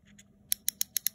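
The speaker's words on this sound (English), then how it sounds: "Audible click on the brake system." The brake dial on a Calamus X2 baitcasting reel gives a couple of faint ticks, then six sharp, crisp clicks at an even quick pace, close and quiet.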